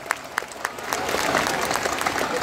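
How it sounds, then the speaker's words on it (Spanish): An audience at an academic ceremony breaks into applause, a few separate claps quickly swelling into loud, sustained clapping from a crowd that carries on to the end. "den un estruendoso aplauso digno del rugido de un jaguar"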